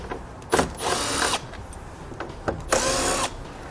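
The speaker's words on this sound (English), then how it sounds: "We'll need to remove the 2 bolts located here in the front using a 10mm socket." Bolts at the front of a 2015 Lincoln MKX being removed with a 10mm socket on a power tool, two separate whirring bursts of under a second each with quiet gaps between them, fairly faint and close.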